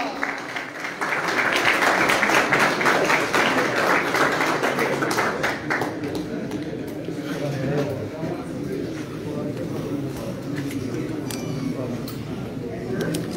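A crowd applauds at a pigeon club prize-giving ceremony, steady clapping swelling loudly for several seconds and then thinning into scattered claps under murmuring voices and talk.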